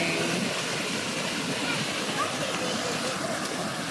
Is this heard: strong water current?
yes